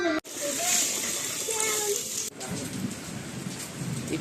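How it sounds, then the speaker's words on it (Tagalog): Steady rain falling outdoors, a continuous close hiss and patter with brief breaks, while people talk over it. "It's raining na po."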